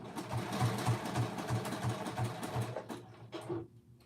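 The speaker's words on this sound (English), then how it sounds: "I'm sewing down the seam now, back stitching at the beginning and end of the stitch." A domestic sewing machine stitches down a garment seam with back stitching, giving a steady run of rhythmic mechanical needle thumps and motor whir that stops abruptly near the end, with no talk over it.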